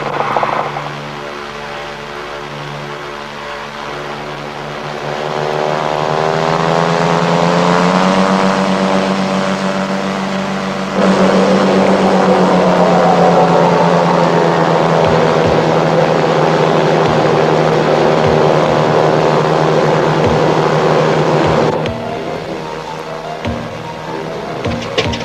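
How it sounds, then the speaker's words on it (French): An airplane engine powers up for takeoff with a loud, sustained drone whose pitch climbs and then holds steady, near and continuous, with no talk over it. "Allô, ici la tour de contrôle. Attendez pour le décollage."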